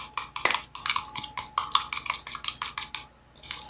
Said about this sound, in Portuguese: Pegar uma colherzinha aqui pra mexer.